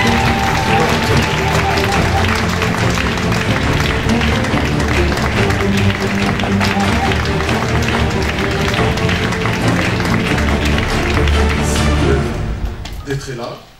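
A church conference audience applauds and cheers to welcome a speaker, a dense continuous wash of clapping and voices that holds steady and loud for about twelve seconds before quickly fading out.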